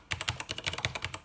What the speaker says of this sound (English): You can hear the sound of that. This is red switch keyboards, and it's a bit quieter than the ones from the blue switch.